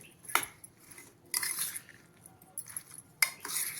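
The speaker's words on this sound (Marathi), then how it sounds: "आता हे सगळं आपण चांगलं मिक्स करून घेऊया" A spoon clinks and scrapes against a bowl in a few separate bursts while cucumber salad with coriander is mixed. The sound is close and fairly quiet, with short pauses between the bursts.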